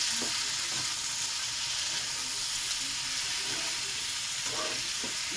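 Green chili paste is stirred in a frying pan, producing a continuous moderate sizzle with soft scraping and stirring touches, no voices over it.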